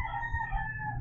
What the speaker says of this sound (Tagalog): Sorry guys sa mga manok.